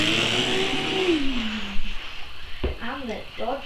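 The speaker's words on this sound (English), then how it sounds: "Right, so these two cars are racing." A Dodge Charger and another car drag race, one engine revving high and then falling away as the pair pass, with a voice talking over the fading sound.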